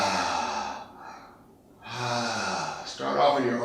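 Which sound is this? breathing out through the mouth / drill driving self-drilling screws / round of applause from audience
breathing out through the mouth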